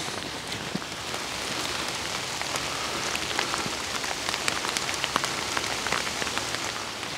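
Steady rain falls outdoors on a walk past a bunker entrance, a dense even patter with scattered sharper drops hitting surfaces nearby, no voices.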